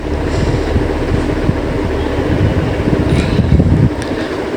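Steady low rumble of a moving train between Kamalapur and Mawa stations in Bangladesh, heard on board, with rhythmic rattling and wind noise throughout, fairly loud and continuous, no voices.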